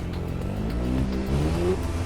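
A Ferrari engine revs in the racing video game Motorfest, a sustained throaty drone with rising harmonic tones climbing in pitch, steady and fairly loud throughout, no speech.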